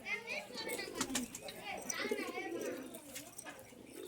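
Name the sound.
pigeon pair cooing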